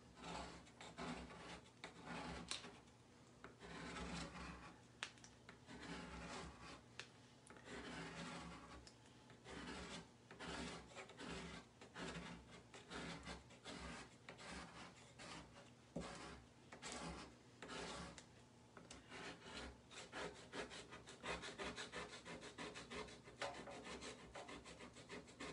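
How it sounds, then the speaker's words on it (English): A scraper rasps old ink and lint off an ink mat in a steady run of close, dense scraping strokes that go on with no talk. "This one seems to be scraping up more gunk."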